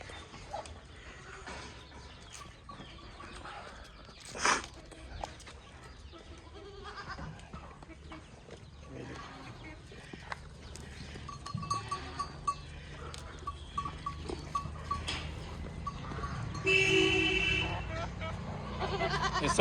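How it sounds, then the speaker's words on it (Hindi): Goats with kids on a Rajasthan goat farm, with occasional bleats and animal calls, a brief sharp cry and rustling movement, heard at moderate distance under farmyard ambience and someone talking. "ये सब बच्चे वाली बकरियाँ है अभी प्रेजेंटली"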